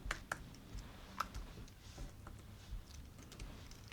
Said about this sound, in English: I hate this little Apple keypad and I suck at typing on it.